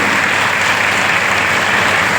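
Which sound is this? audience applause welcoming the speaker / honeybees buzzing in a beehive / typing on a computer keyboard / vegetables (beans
audience applause welcoming the speaker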